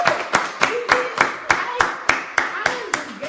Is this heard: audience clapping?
yes